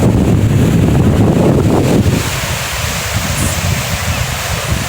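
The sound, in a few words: sea waves at Digha beach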